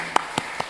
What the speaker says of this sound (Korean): 격려 못 받아보신 분들에게 박수 한번 해줍시다